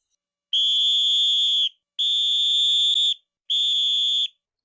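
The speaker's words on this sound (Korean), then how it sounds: "이때 사이렌 소리와 함께 들려오는 호루라기 소리." Three long shrill blasts from a police whistle, each over a second long with brief gaps between them, loud and close against near silence.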